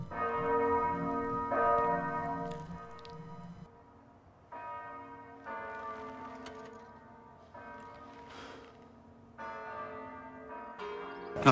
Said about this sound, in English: I've always hated the bells.